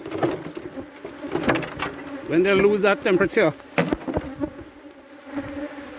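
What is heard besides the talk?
honey bees buzzing at a Trinidad apiary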